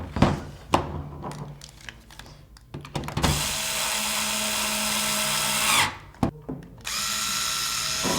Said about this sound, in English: So now I'm gonna screw the rest of the gun back together.